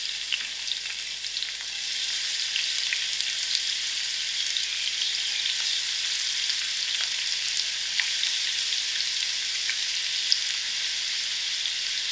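Onions frying in about half a cup of hot oil in a pan give a steady, even sizzle that holds close and unbroken throughout, with no voices.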